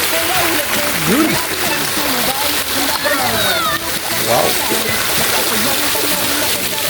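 Pool water at a family resort splashing and sloshing as someone wades in, a steady loud wash of splashes under a voice exclaiming once and other people talking nearby.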